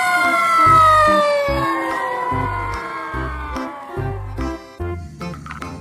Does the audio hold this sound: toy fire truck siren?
yes